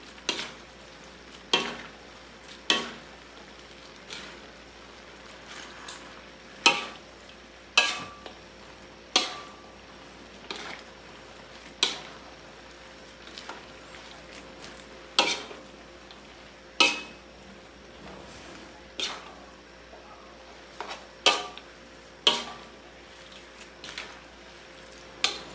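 A utensil stirs cabbage in a frying pan with regular scraping clacks against the metal every second or so over a steady soft sizzle, close up and with no talking.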